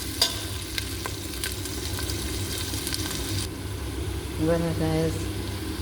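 Onions fry in a pan with a low steady sizzle under a constant hum, with a few sharp clinks of stirring early on, and a voice speaking briefly near the end.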